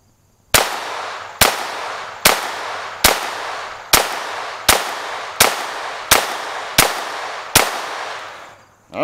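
Ten sharp, evenly spaced pistol shots from a handgun fitted with an Advantage Arms .22 conversion firing CCI Mini-Mag ammunition, each crack loud and close with a short decaying tail, no voices.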